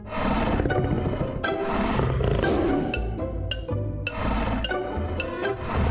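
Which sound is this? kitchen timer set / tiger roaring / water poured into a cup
tiger roaring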